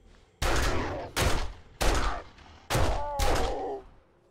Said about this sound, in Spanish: Perdón, he pegado tiros, lo sé.